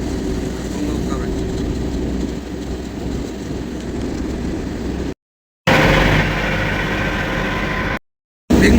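A truck drives along a road toward Mumbai, carrying a steady, loud rumble of engine and road noise from inside the cab that is cut by two brief dropouts.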